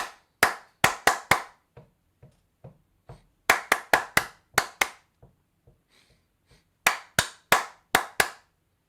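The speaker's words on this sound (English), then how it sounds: "clapping rhythms to call for quiet, usually a series of them" Hand clapping rhythms used to call a classroom to quiet: three bursts of sharp, loud claps in quick patterns, separated by softer, sparse claps, with no talking.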